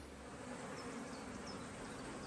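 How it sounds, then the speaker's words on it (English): A dense, steady insect buzz fills the air throughout, a large swarm of honeybees humming continuously at close range. "that was a huge load of bees in the air"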